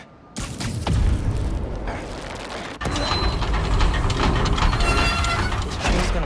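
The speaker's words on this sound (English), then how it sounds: "This train's gonna block that one." Heavy mechanical rumble of a train moving along tracks in the video game Marvel's Spider-Man: Miles Morales, a dense, continuous clanking roar with a brief cut near the middle before it resumes just as loud.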